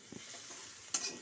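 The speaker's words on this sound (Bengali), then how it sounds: "আদা বাটাটা দিয়ে আমি আরও কিছুক্ষণ এটাকে নেড়ে চেড়ে ভেজে নিলাম।" Spices with ginger paste fry in a pan, a soft low sizzle with a couple of light scrapes of stirring and a brighter scrape near the end.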